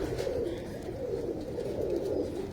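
Pet racing pigeons coo nearby in a soft, repeated, throaty rhythm of several swelling calls.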